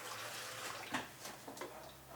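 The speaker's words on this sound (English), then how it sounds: "So I put some water in." Water is poured into a steamer pot for steaming leftover pumpkin, making a quiet, steady splashing stream with small bursts, close by and faint.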